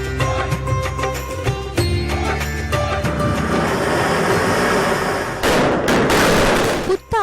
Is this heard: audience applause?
no